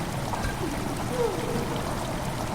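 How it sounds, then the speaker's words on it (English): Water trickling from a pipe in the game Amnesia, a soft continuous stream and dribble over a low ambient rumble, fairly close and steady. "hey look, there's now water coming down out of this pipe."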